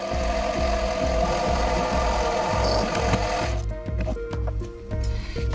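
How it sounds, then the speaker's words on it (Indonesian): A center drill cuts into a metal valve head for an air-regulated screw adjuster on a lathe, a steady loud machining drone with rhythmic low pulses that changes character partway through. "Kita center bor dulu."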